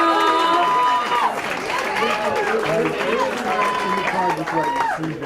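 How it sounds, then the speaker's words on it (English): Wedding reception guests applaud and cheer in a full, lively wash of clapping with voices calling out over it, and a man's speech runs through the noise. "how about a very warm round of applause for our groom sister?"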